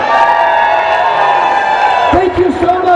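A crowd at a kids' fair wrestling show cheers and whoops with sustained shouted tones. Near the end the cheering gives way to brief chatter and voices.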